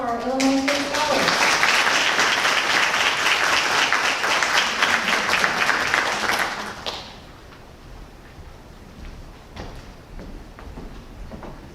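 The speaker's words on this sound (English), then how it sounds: "would you all join me in a round of applause for our Illinois State Scholars?" A school honors night audience gives a loud, sustained round of applause for Illinois State Scholars, clapping steadily for about seven seconds before it cuts off into quiet room tone.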